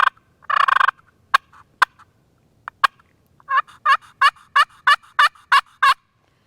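Close turkey pot call: a raspy purr and a few sharp clicks, then a steady run of about eight crisp, evenly spaced clucks.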